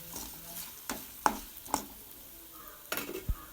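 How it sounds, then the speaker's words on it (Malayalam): A spoon stirs turmeric and chili masala in a pan for puliyinji, with scattered sharp scrapes and clinks over a faint sizzle, close and fairly quiet with no talk. "എന്നിട്ട് ആ മസാലയുടെ പച്ചമണം മാറുന്നത് വരെ ഒന്ന് ഇളക്കി കൊടുക്കുക"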